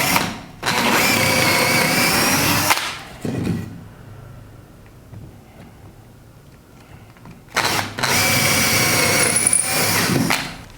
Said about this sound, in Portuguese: vou colocar uma broca de 6 milímetros na furadeira e vou varar ali o material